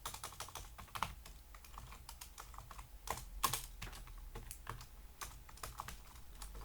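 Fingers type on a computer keyboard in a busy, uneven stream of crisp close keystrokes, with a few louder clustered clacks partway through and no speech.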